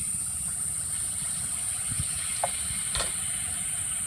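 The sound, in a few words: flour batter frying in hot oil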